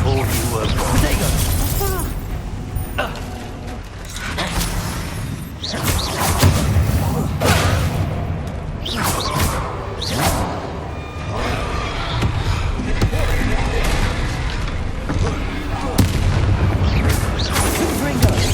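Spell blasts and explosive booms from combat in Hogwarts Legacy, dense and continuous over a rumbling game score, with repeated sharp impacts and thuds and game voices speaking throughout.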